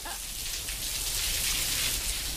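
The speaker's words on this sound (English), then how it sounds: "You can hear the rain falling down." Steady rain falls in a small square on Haggerston Road in Hackney, East London, as a dense, even hiss of drops with no voices over it.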